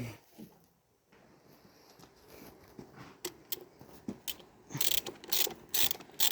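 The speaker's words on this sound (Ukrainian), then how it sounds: "Оце від маховика воно відкручується." Ratcheting wrench clicks while unscrewing a part from the flywheel of a T-40AM tractor, sparse at first then quick loud bursts of metallic ratchet strokes near the end, close up with no talking.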